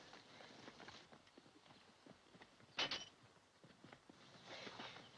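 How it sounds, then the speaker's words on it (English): Horses' hooves clip-clop in an irregular patter at a moderate distance, with a sharper knock partway through and a soft rushing background. "Those are our horses."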